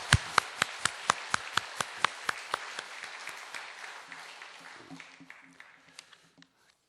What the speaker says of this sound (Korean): 환영의 박수, 격려의 박수 보내겠습니다